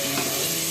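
Curry leaves sizzle and fry in hot oil in a pan while cooking kadhi pakora, a brief, steady, close crackling hiss.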